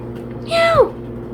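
A person imitates a cat's meow with a single drawn-out, falling vocal mew, close and fairly loud over a low steady background hum.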